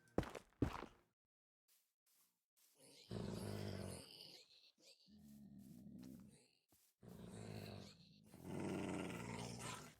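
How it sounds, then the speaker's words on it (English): A dog growls in the blocky survival game Minecraft, played in the GTNH modpack: low, rough growls repeat in several drawn-out bursts after a few short clicks, fairly close and loud against otherwise quiet surroundings. "I hear a dog."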